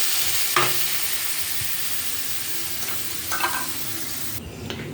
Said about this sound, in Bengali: এবার নেড়ে নিয়ে জল দিয়ে দেবো।